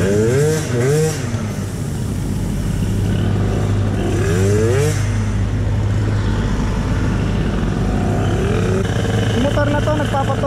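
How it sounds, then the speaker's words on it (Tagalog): A motorcycle engine being tuned, idling steadily and loud and close, with a few rises in revs, while people talk over it the whole time. "Yung motor na to nagpapatono eh."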